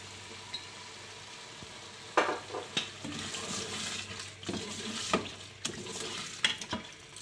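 Half-cooked mutton frying in about a cup of oil in a pot sizzles softly, broken by several stirring scrapes and clinks of a spoon against the pot.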